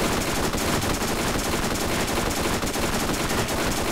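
Dense, continuous gunfire from a boss fight in the Borderlands video game, loud and unbroken, with rapid shots blending into a steady roar and no voices.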